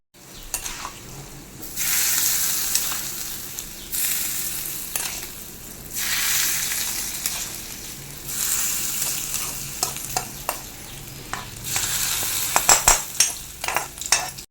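Browned rice and onion tempering sizzles loudly as it is poured over a Kerala-style jackfruit seed and snake gourd thoran, in bursts of hissing frying with stirring and a few utensil clicks near the end.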